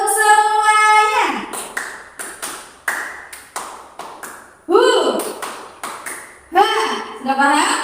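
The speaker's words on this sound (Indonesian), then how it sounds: "Tepuk semangat 1. Tepuk semangat 2. Tepuk semangat 3." A classroom group plays the rhythmic clapping game tepuk semangat, with a voice chanting in a sing-song pattern between short bursts of hand claps and taps, all close and fairly loud.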